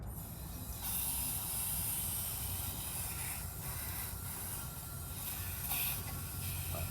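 Propane hisses steadily as it fills a 1 lb cylinder, escaping partly at the tank handle, a continuous close airy rush with faint clicks and no talk.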